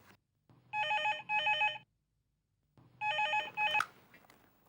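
A telephone rings for a call to the police commissioner, two clear bursts of double trills separated by a pause. It sounds fairly close, and no one speaks over it.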